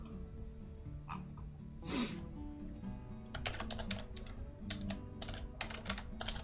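Rapid computer keyboard typing during a session with the naval design game From the Depths, clustered keystroke clicks arriving in quick bursts with short pauses, close and fairly clear over a low steady hum.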